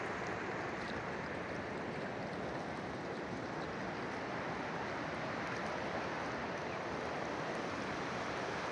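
Mountain waterfall and stream water in a Tajikistan sanatorium setting, a steady, dense rushing roar with no breaks, fairly soft and even throughout.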